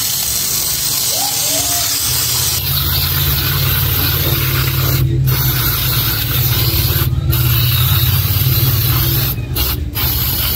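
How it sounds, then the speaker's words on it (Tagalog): Brake cleaner sprays onto a car brake drum during brake servicing, a steady loud hiss lasting throughout with a few brief interruptions near the end. "na once na in-spray nyo po, talagang konting spray lang, laglag lahat ng dumi"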